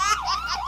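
Police-style siren tone playing from a mobile phone, a loud, close wailing sweep rising and falling in quick repeated cycles.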